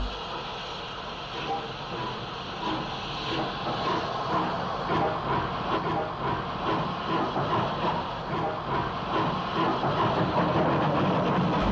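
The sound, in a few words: steam locomotive 35025 Brocklebank Line at Waterloo station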